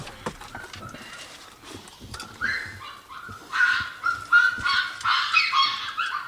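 Young dogs yip and bark in quick, excited bursts, starting scattered and soft, then growing louder and more frequent toward the end.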